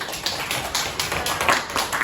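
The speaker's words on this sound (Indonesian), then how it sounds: "Jadi tepuk tangan dulu" Hand clapping in a classroom teaching session, a steady run of sharp claps about four per second, close and fairly loud with no talk over it.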